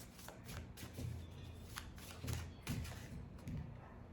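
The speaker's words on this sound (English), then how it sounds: "I'm going to draw one more card here." A deck of tarot cards is shuffled and drawn, quiet close crisp riffling and slapping bursts repeating several times, with no voices.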